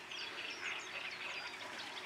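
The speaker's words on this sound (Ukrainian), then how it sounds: "якась качка" A duck quacks faintly in the distance by the polluted Seret River at Velyka Berezovytsia, Ukraine, over steady outdoor background noise, with several soft calls scattered through the moment.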